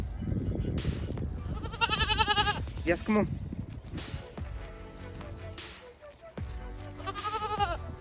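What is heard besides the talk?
goats bleating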